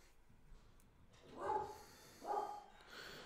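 Two muffled barks from a dog in another room of a house, fairly distant and soft, spaced about a second apart over a quiet indoor background.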